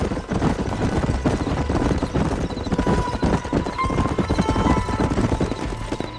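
Horses clip-clopping along at a steady gait in Red Dead Redemption on PC, hooves thudding continuously under a dense, busy Western game soundscape with occasional faint whinnies.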